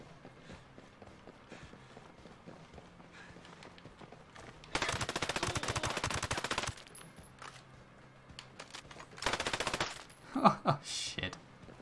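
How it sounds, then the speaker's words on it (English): Enemies shooting each other in Ghost Recon Breakpoint, two long bursts of rapid automatic gunfire at moderate distance, separated by quieter stretches, with a few sharper shots near the end. "I think they're starting to shoot each other now."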